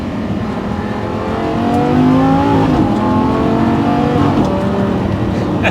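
Porsche 718 Cayman GT4 engine pulling steadily while driving, a loud continuous drone heard from inside the cabin that rises in pitch, dips briefly around a shift, then climbs again.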